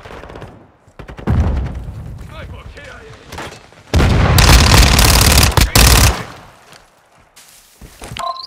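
Grenade blast and rapid gunfire in Call of Duty: Modern Warfare II, with scattered shots giving way to a loud, sustained burst of explosive fire before tapering off, while voices call out over the action.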